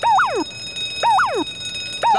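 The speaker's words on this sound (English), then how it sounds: "Silent alarm activated." In The Simpsons Hit and Run, an electronic alarm repeats a warbling up-and-down siren phrase three times about a second apart, loud and close, with no speech.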